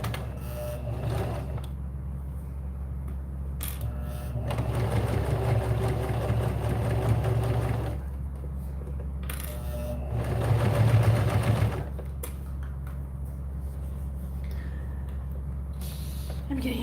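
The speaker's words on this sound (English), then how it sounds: "I'm actually sewing." A sewing machine stitches cork fabric in two sustained runs of mechanical whirring, each lasting several seconds, separated by pauses with only a low steady motor hum in the room.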